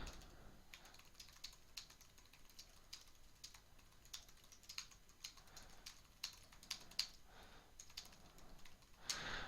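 Fingers type on a computer keyboard in quick, uneven bursts of soft clicks and taps, close and fairly quiet, with a slightly louder flurry at the end.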